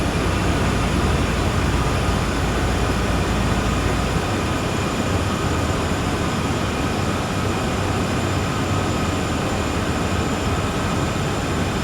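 A long freight train climbing a long uphill grade out of Cheyenne in Train Sim World 4, with a loud, continuous rumble and steady engine drone and no talk.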